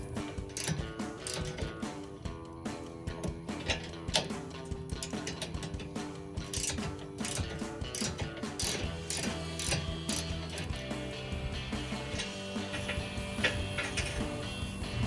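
Ratchet tightening a bolt under a Rough Country Classic full-width rear bumper on a Jeep Wrangler YJ: fast, continuous mechanical clicking, close and steady, with no talking.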